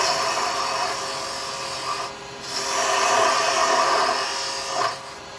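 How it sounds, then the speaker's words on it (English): A small wooden Christmas angel spinning on a lathe while a round carbide chisel shaves the body down, making a loud, continuous rasping scrape that swells and eases as the cutter moves in and out, with no talking. "so I'm going to come in and use a round. Start to get this body turned down a bit"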